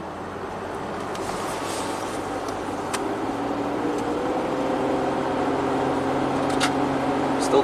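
A third-generation Toyota 4Runner engine revs up under acceleration, its drone rising steadily in pitch and loudness over several seconds, heard from inside the vehicle with a constant road and engine rumble.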